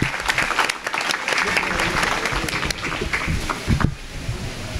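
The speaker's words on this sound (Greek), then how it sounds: "Ένα ζεστό χειροκρότημα" Warm applause from an audience at a Greek municipal event, a steady wash of many hands clapping for about four seconds before tapering off.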